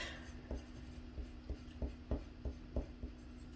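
Light colored pencil burnishing over paper in a coloring page, a soft close scratching drawn out in regular repeated strokes, roughly one every half second, with no talk.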